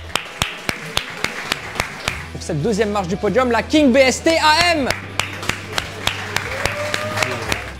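At a podium ceremony for a Suzuka endurance race, sparse, sharp hand claps tick along at a slow regular beat, while an announcer speaks over the middle stretch and a low hum runs underneath.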